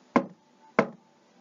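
Two sharp knocks on a hard surface, evenly spaced about half a second apart, close and distinct with quiet between them.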